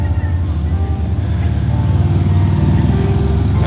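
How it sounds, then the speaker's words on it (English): Motorcycles pass along a street in Sutter Creek, California, before a parade, their engines droning and rumbling steadily nearby for several seconds, with a brief low knock near the start. "hear that the motorcycles going by"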